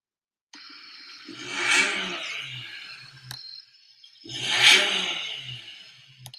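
A car engine revs up twice to a high-pitched, screaming whine, each rev rising then falling away, loud and close.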